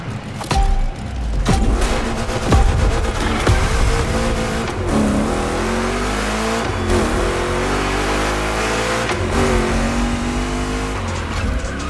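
Chevrolet big-block engines in The Crew Motorfest racing game, loud revving and shifting with rising and falling engine pitch, tire squeals and skids, and sharp impacts throughout a continuous race.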